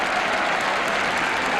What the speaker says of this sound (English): Tremendous applause the Leicester City players are getting as they come off after a 4-1 victory